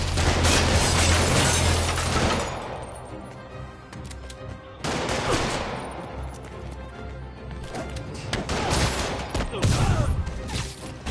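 Gunfire from criminals shooting at Spider-Man in a game: dense, loud volleys of rapid shots in three long bursts, with crashing impacts mixed in.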